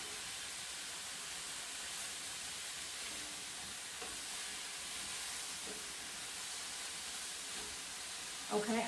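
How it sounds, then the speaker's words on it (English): Broccoli and beef sizzle in a hot pan as they are stirred, giving a steady, even hiss with faint scrapes toward the end. "Now let me just stir those food."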